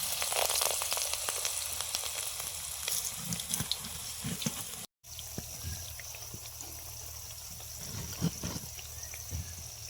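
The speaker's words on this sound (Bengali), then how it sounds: "ডুবিয়ে এইভাবে আমি তেলে ছেড়ে দিব" Battered coriander-leaf fritters for a coriander chop frying in hot oil, giving a steady close, loud sizzle and crackle that runs throughout, briefly cutting out midway, with no talk.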